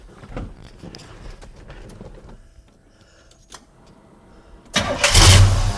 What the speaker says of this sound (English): Oh, listen to that start right up.